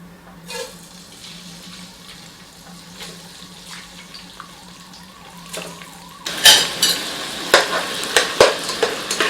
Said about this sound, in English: Toasting rice in ghee is optional.